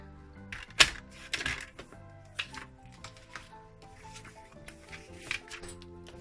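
Paper card pieces for pressed-petal greeting cards are trimmed, making scattered crisp clicks and snips at close range over soft background music.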